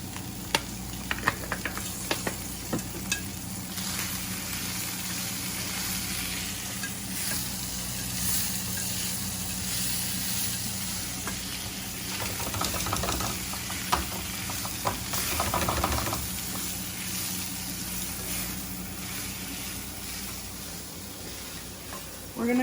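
Jalapeños and chiles frying in a little oil in a pan, a steady soft sizzle with occasional stirring scrapes, close and fairly quiet, no one talking.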